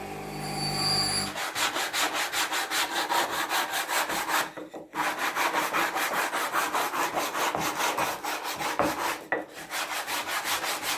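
Steady rhythmic rasping of sawing and sanding wooden boards, continuous back-and-forth strokes, close up, with two brief pauses.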